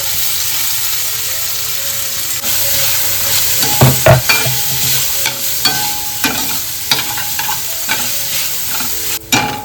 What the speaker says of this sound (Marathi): इकडे कांदा ना मस्त परतावून झालेला आहे.